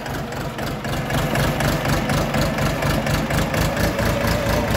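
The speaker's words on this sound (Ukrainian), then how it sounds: "Трьохциліндровий дизельний двигун" A three-cylinder diesel engine of an Orion RF-244 mini tractor idles steadily with a low, throbbing chug and rattling vibration, loud and close, with no speech.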